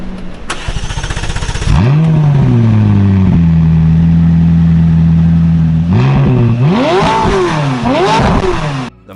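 McLaren 570S sports car in orange starts up and revs, with a rising bark into a steady idle and then several sharp throttle blips, loud and close.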